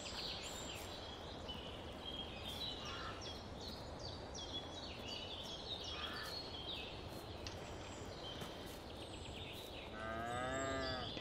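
Cows mooing in a farming video game, set in a harvest season, several low drawn-out moos over a steady hum, with a louder close moo near the end and no speech.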